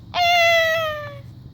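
One clear, close cat meow, a drawn-out tonal cry of about a second that slowly falls in pitch and tails off, over a low background rumble.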